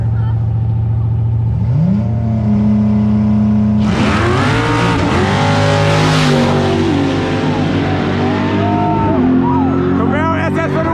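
A Chevrolet Camaro SS and a Nissan GTR race from a street launch, engines climbing through loud, close gear-shift revs and hard acceleration, with voices talking throughout.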